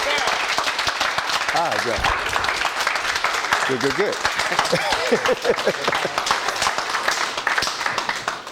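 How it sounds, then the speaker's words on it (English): Applause from an audience welcoming an author and scholar to a talk, a dense crowd of clapping with a few cheers that runs the whole time, while someone speaks briefly over it. "Give him a big round of applause."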